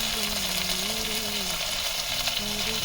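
Curry leaves, tomato and green chili sauté in a clay pot with a pinch of salt, giving a continuous close sizzle and frying crackle with occasional stirring.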